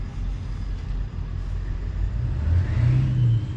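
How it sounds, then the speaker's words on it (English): An International Lodestar truck engine runs steadily at close range, a low rumbling drone that swells slightly toward the end, with no talking over it. "International Lodestar."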